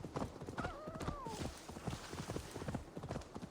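Rhythmic hoofbeats of a galloping horse in Assassin's Creed Valhalla, steady and fairly quiet, with a brief whinny and faint voice in the background.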